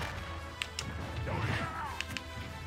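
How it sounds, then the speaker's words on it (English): A smash attack lands in Super Smash Bros. Ultimate: sharp cracking hits and a sweeping whoosh cut through the quiet in-game background, with a couple more quick impacts near the end. "Oh, there's that smash."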